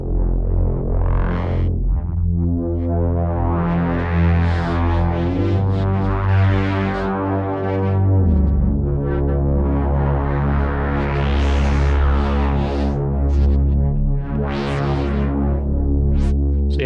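A sawtooth synthesizer voice run through a grain delay effect plays a rich, harmonically dense sustained line with a deep drone underneath, shifting pitch and swelling brightness over time, loud and alone.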